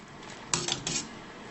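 Slotted spoon clinking against a pot or bowl while scooping cooked artichokes, three quick metallic taps in close succession, near and fairly clear over quiet room noise.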